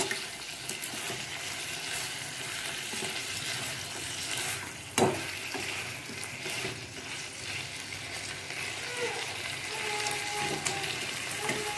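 Partridge curry sautés dry in a pan with a continuous sizzle and repeated stirring scrapes, and one sharp clank partway through.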